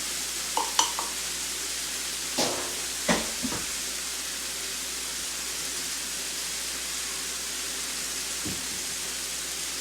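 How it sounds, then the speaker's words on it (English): Rice toasting in a pan for a broccoli cheese chicken and rice casserole gives a faint, steady hiss, with a few brief spoon scrapes and knocks near the start and one more later. No one speaks. "Now we're gonna stir all this together while the rice is toasting up."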